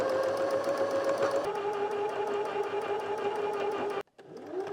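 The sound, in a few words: sewing machine stitching fabric corners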